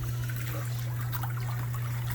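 Water trickles gently from the waterfall of a Master Spa Twilight 8.2 hot tub, a soft continuous splashing over a steady low pump hum, close by and with no talking.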